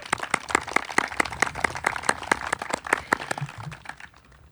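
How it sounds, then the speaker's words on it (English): A small group claps at an outdoor community service day at a garden project, sharp separate claps in a steady patter for about four seconds, thinning out at the end. "So really want to give a round of applause."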